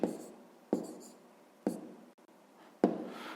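A hand writes out a math exercise, making four distinct scratchy strokes, each starting sharp and trailing off, close and soft with quiet gaps between.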